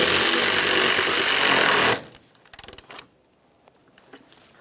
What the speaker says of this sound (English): Start on the mounting bolt and snug it up